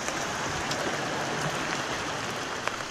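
Rainwater runs and splashes between apartment buildings in a residential complex, a steady broadband wash of flowing water and rain with occasional faint drip ticks, continuous and moderately loud with no talking.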